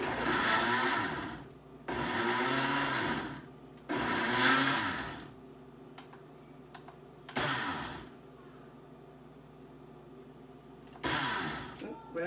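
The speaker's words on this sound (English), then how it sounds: "We're just going to blend it. So it's going to be a bit noisy." A blender whirs in several loud bursts of a few seconds each, blending sofrito, with short pauses between them, as a person talks in the quieter stretches.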